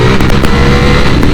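A Ducati Panigale V4S motorcycle in race mode roars loud and close, its engine a continuous, dense drone with small throttle pulses and heavy wind rush throughout.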